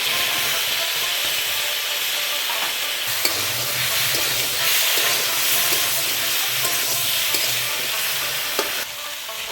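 Taro frying in a pan with ground cumin, green chilli and dried red chilli pastes, a loud continuous sizzle and hiss with occasional scraping of a ladle stirring through.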